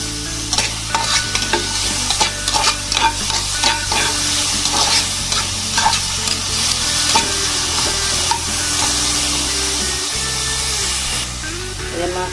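Tomatoes and shrimp paste sauté in a hot pan, giving a loud crackling sizzle broken by repeated clinks and scrapes of a stirring utensil, with a short gap near the end.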